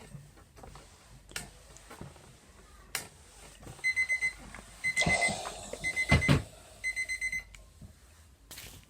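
A timer alarm goes off in a sewing setting, sounding repeated short electronic beeps in quick bursts, with a clatter of handling in the middle and quiet room noise around it.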